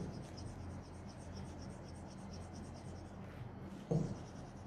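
A marker scratches across a whiteboard during a secondary-school physics lesson, making faint, steady rubbing strokes close by, followed by one short bump as it is lifted or set down.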